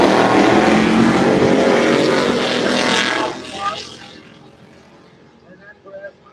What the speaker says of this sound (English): that Ford Mustang heading towards the finish line